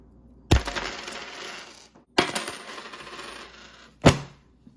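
Coins dropping as a sound effect: three loud bursts of metallic clinking and jingling, the first two each ringing out for over a second, the last a short sharp clatter, with no voices.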